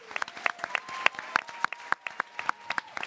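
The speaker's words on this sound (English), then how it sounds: "Please join me in giving everyone a round of applause." Sparse, irregular claps from a small audience at a racial justice policy forum event ring out as distinct sharp hits over a faint steady tone, with no voices.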